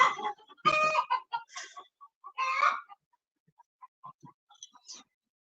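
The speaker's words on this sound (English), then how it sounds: "You hear that in the background? My chickens is laughing at you." Backyard chickens clucking and cackling in a rapid, uneven series, fairly clear at first and then thinning into scattered softer clucks.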